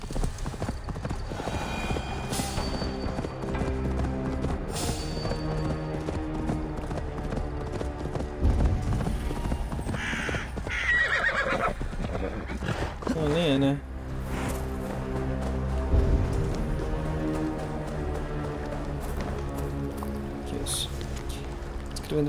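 Horse hooves clip-clop steadily in Assassin's Creed Valhalla on PS5, with occasional whinnies, splashing water and game music beneath, while someone talks over much of it.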